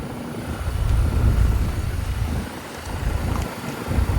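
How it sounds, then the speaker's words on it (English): Outdoor fan motor of a 2014 two-ton Trane XR13 heat pump running, giving a steady, loud, close-up whooshing rumble with no one talking. "There's the fan motor."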